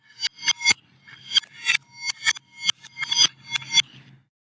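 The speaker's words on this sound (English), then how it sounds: "it plays now the sound backwards" Reversed cutlery clinks: about ten swelling, bright metallic hits that rise to an abrupt cutoff rather than decaying, in a steady uneven rhythm, close and alone.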